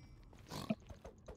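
A pig in the Minecraft video game grunts once, faint and brief, over quiet game background sounds.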